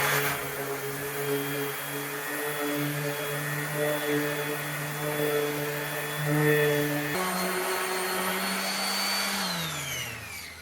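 A DeWalt electric sander with 220-grit paper works across a Corian countertop, a steady loud whir with a high whine that shifts pitch partway through and winds down at the end.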